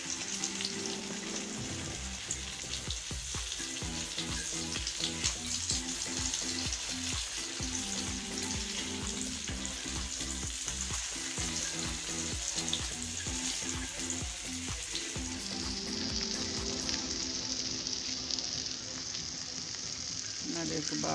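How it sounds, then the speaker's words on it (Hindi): Shami kebabs fry in a pan with a steady, dense sizzle that lasts throughout, joined by occasional clinks and faint water-like splashing, with no talking. "हमारे कबाब फ्राई हो गए हैं, दोनों तरफ से बहुत अच्छे फ्राई हुए हैं।"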